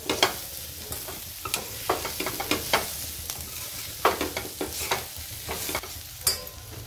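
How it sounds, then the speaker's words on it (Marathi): Squeezed safflower greens are stirred in a hot pan, with a steady sizzle broken by repeated scraping strokes of the spatula at close range and no voices. "आता आपण ही पिळलेली भाजी टाकून घेऊ। हेपर्यंत असं मिक्स करून घ्यायचं।"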